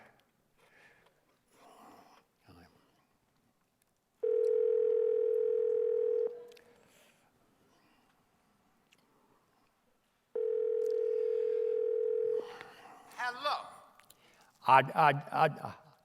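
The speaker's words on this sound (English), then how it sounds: "I go over to the phone and dial the number, Betty Davis's number." A telephone dial tone plays as two steady, loud bursts of about two seconds each, separated by a quiet gap. Brief voices and other faint sounds come before them, and talking follows after the second tone.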